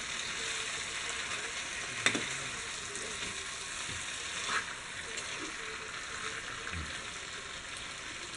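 Pepper chicken roast sizzles steadily in a pan while being stirred, a soft continuous frying hiss broken by a few light scrapes, with no talking.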